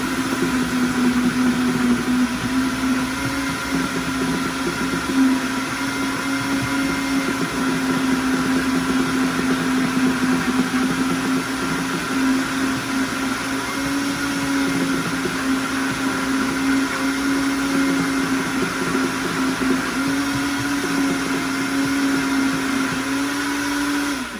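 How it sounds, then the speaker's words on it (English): A blender crushes ice for a Thai green tea drink, running as a loud, steady motor whine with a constant pitch and grinding texture. It continues alone and close for the whole stretch with no talk. "As you can tell, when I'm blending it, I was very patient with it."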